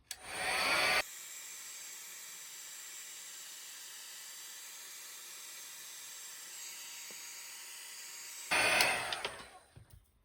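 A heat tool blasts hot air onto a mixed media paint project in a loud steady whoosh, with a sharper burst as it starts, a long even drone, then a louder surge before it cuts off.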